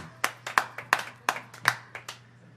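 Sparse, polite golf-clap applause from a small audience after a piano, bass and drums jazz trio set in a room, about a dozen distinct hand claps at an uneven, relaxed pace.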